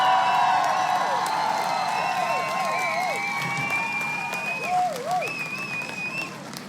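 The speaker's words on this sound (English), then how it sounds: "give me a round of applause" A round of applause with cheering and whoops rings out, a continuous bright crowd roar with whistling, rising shouts layered over steady clapping.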